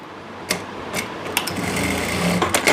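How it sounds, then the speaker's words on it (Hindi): A sewing machine stitching elastic onto palazzo pants, a steady close whirring run broken by a few brief louder knocks and clicks as the fabric is guided. "पहले हम इसके अंदर सिलाई लगा लेंगे।"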